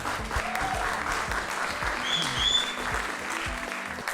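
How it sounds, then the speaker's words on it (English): Audience clapping at the Kampala International Theatre Festival in Uganda, a moderate crowd applauding steadily at middle distance with light background murmur. "Warm applause again."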